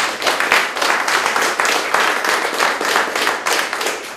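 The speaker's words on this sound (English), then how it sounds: "So, a little round of applause for Mayor." Applause for the mayor at the grand opening of UpSource Inc., a dense, steady round of many hands clapping close by for about four seconds, with no voices standing out.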